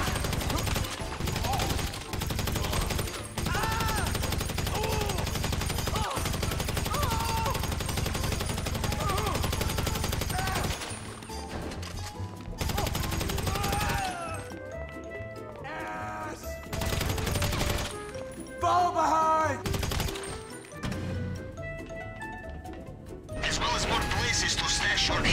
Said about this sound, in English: not having any night vision goggles meant shooting in the pitch black and hoping for the best